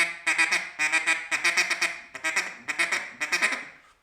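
A mallard drake's feeding chatter: quick, loud runs of raspy, stuttering quacks in rapid bursts, close and unbroken by pauses.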